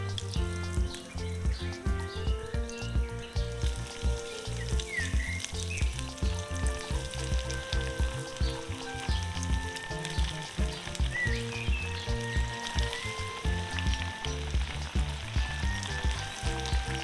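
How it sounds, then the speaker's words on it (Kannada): Rava-coated silver fish frying in oil during outdoor village cooking, a steady sizzle running throughout beneath loud, continuous background music. "ಏನು ಫ್ರೈ ಮಾಡುವ."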